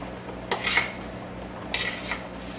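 A knife works through roasted carrots and pumpkin, cutting them into smaller pieces for an oxtail soup. Two short, close scraping cuts with light clinks sound against a quiet kitchen background.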